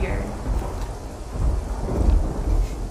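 Heavy rain pours in a dense, continuous roar with low rumbling thunder swelling underneath, loud and close, with no voices.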